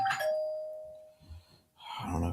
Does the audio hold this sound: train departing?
no